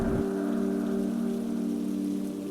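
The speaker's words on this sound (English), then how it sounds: "It was raining heavily" Heavy rain pours down steadily as a dense, loud hiss with a constant patter, behind a low sustained tone in an animated story's sound effect.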